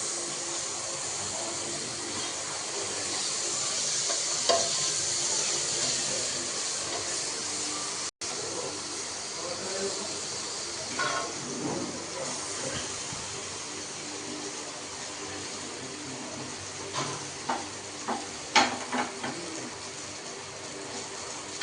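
Butter sizzles in a pan as it is stirred, a steady soft hiss with occasional light scraping clicks toward the end.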